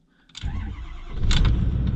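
A Ford 6.4 Powerstroke diesel engine cranks and fires up after a brief silence, settling into a loud, low rumbling idle that swells slightly toward the end, with no talking.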